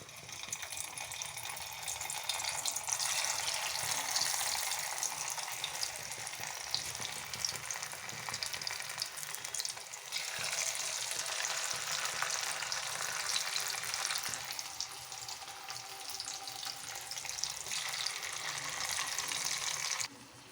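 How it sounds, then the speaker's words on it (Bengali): Potato fingers fry in plenty of hot oil, giving a dense, continuous bubbling sizzle that stays loud and close for about twenty seconds, with no talking. "তারপরে আমি আলুগুলোকে আধ ভাজা করে ভেজে তুলে নেবো একবার"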